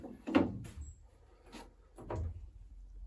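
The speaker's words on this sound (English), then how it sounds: "I can take the pencil out, and the door opens now" A small wooden door on a vintage model aircraft build creaks and knocks faintly as it is worked open, with a few soft rubbing bumps at close range.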